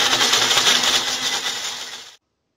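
A loud, steady whirring of a blender motor grinding a tomato into paste for about two seconds before cutting off abruptly into silence.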